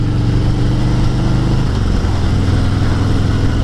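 A 2019 Harley-Davidson Road Glide 114 runs with a steady, loud low rumble that holds an even pitch throughout, with no voices over it.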